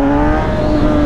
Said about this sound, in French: J'ai accéléré en grand, regardez, j'accélère en grand, regardez.